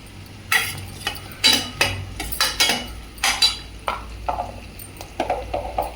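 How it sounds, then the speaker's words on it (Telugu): Onions and green chillies frying in a pan with a little salt, stirred with a utensil: repeated close scraping clinks against the pan come in an uneven rhythm over a faint background sizzle, with no talk. "ఆనియన్స్ ఫ్రై అవ్వటం కోసం కొంచెం సాల్ట్ యాడ్ చేస్తున్నాను."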